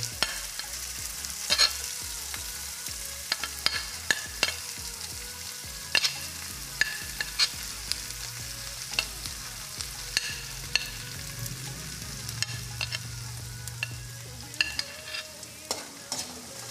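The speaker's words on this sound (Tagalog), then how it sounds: "Ayan guys, halu-haluin lang para maluto yung hotdog." Hotdog pieces sizzle and fry in a pan for menudo, a busy constant crackle with repeated scraping and knocking of a utensil stirring them, close and fairly loud throughout.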